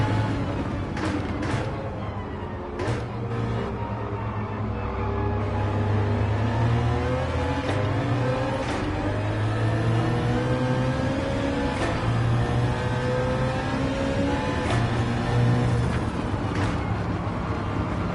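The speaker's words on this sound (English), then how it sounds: "You hear the chatter of the wastegate. I think this is running a, it sounds like a flat plane V8." BMW M3 with a swapped flat-plane V8 in Gran Turismo 7, revving up and down through gears with rising and falling engine drone and intermittent wastegate chatter, steady and fairly loud throughout.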